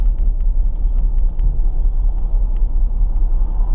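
A warm 1968 Dodge Charger V8 idling rich with a slightly hunting idle, giving a steady, loud low rumble with a faint uneven pulse throughout.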